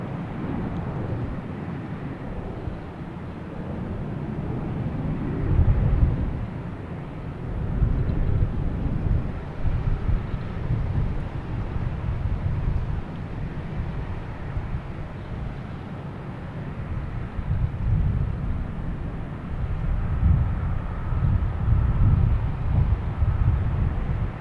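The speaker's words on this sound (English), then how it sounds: "gotta get this JetBlue from Bermuda coming in." JetBlue Airbus A320 arriving from Bermuda comes in to land at Boston Logan Airport, a low rumbling engine roar that swells and fades at moderate distance with some wind buffeting.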